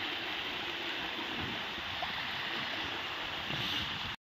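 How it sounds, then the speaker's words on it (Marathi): Rainwater flows and gurgles in a steady rushing stream after a sudden downpour, a continuous close, moderately loud wash of water with no talking, cutting off abruptly at the end. "इकडून सुद्धा पाणी वाहतंय."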